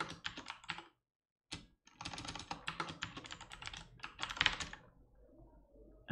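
Someone types a command on a computer keyboard to connect to a server, close rapid key clicks in bursts with a brief pause near the start, then a dense flurry that tapers off.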